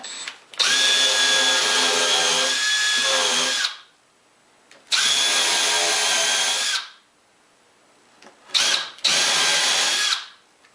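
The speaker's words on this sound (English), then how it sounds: "Now I know exactly where they are, I can countersink them from this side." A power drill countersinks screw holes in a pine lamp table, running in three loud, close bursts separated by short pauses, with no talking.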